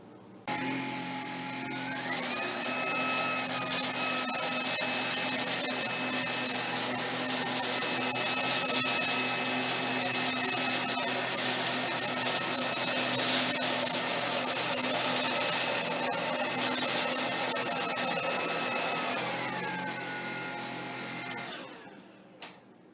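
A Tineco Pure One S15 cordless vacuum runs steadily over carpet, a loud continuous motor whine with a rising pitch at start-up and a falling wind-down near the end, with no talking.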